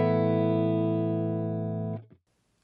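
Clean electric guitar tone through an effects chain: one sustained chord rings evenly and smoothly for about two seconds, then is cut off abruptly and falls to silence.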